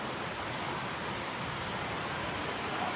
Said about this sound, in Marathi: तर पाऊस खूप पडतो